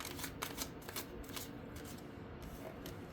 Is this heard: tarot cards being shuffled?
yes